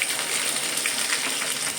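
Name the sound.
chopped chili sizzling in hot ghee tempering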